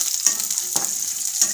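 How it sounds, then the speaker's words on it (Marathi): Curry leaves crackle and sizzle in hot oil in a pan, a steady bright frying hiss with a few stirring scrapes. "कढीपत्ता पण असं चांगलं व्यवस्थित तेलात भाजून घ्यायचं आहे"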